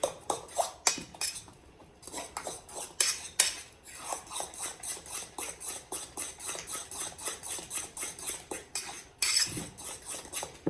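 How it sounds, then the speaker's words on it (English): Eggs, cottage cheese and spinach stirred together in a pan, giving a steady run of close metal-on-pan scrapes and clinks in quick rhythm with a few brief pauses, no talking. "I'm going to stir it all up and combine the eggs with the cottage cheese with the spinach"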